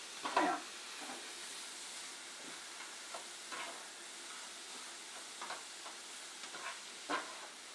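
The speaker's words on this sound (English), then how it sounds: "we've been letting the cauliflower cook in the pan." Cauliflower rice cooks in a pan with a soft, steady sizzle, broken by occasional light scrapes and clicks of stirring, all faint and close with no talking.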